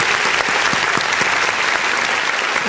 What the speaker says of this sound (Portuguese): Por favor, uma salva de palmas enquanto ele chega aqui.